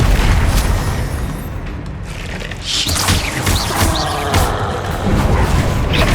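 Repeated Confringo fire-spell blasts go off in the video game Hogwarts Legacy, with loud booming impacts and crackling bursts in the middle of busy combat.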